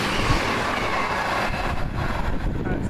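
A TransPennine train rushes through Kearsley station, a loud, close, continuous roar of wheels and rail rumble with faint clattering, holding steady throughout.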